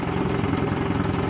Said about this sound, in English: in this motor, these coils seem to idle pretty well.